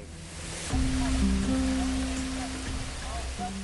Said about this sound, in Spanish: Lluvia en mitad de Kenia. Es muy poco común. Es algo inusual. La tormenta que acaba con la sequía se intensifica